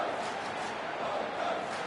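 A steady stadium crowd roar at an Australian rules football match in AFL Evo 2 swells as a broad, constant cheer, moderately loud and continuous.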